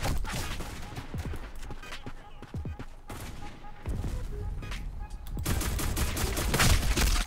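Gunfire in the online shooter Black Squad, a run of sharp shots and short bursts across the clip, growing denser and louder toward the end, with a player's voice talking at times over the shooting.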